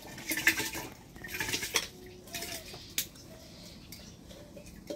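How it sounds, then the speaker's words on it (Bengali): Rice is rinsed in a metal pot in a village kitchen in rural Bengal on a winter morning, giving off faint clinks, scrapes and swishes in uneven bursts at close range. "তো চাল ধুয়ে দিয়ে দিলাম।"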